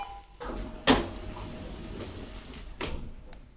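Doors of an old 1960s express lift in an abandoned building closing, with a sharp metallic thud near the start and a second, softer clunk later over low mechanical hum.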